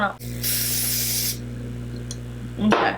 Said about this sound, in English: I'm gonna spray it either directly onto my beauty blender or really close to my face